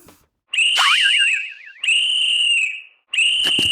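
A dog whistle sounds in three long, shrill, steady blasts, loud and close, the first with a warbling trill, as a sound effect during a read-aloud of a children's book.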